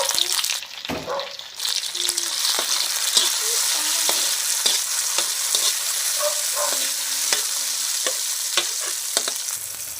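Tomatoes added to onion and garlic sautéing in a pan sizzle steadily and loudly, with scattered spoon scrapes and clinks as the mixture is stirred throughout.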